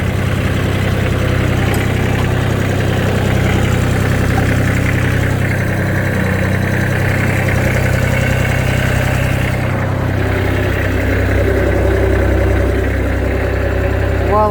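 Steady mid-pitched engine of a Japanese mini tractor running close by with its power take-off shaft turning, a continuous loud rumble and vibration throughout with no voices.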